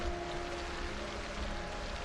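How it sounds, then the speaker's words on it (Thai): Steady rain in the zombie survival game Project Zomboid, a soft, even hiss of falling drops holding at constant low level throughout, with a faint tonal hum beneath and no talk. "ฝนตกแล้ว"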